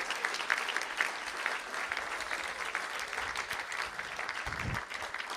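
A school board meeting audience applauds the student advisory council, sustained clapping from a moderately sized crowd in a hall, steady and even throughout without any speech.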